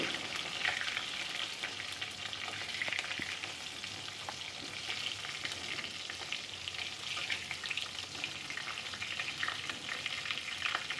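Mixed pond fish fry in oil with a continuous moderate sizzle, crackling and popping throughout, with occasional stirring clinks.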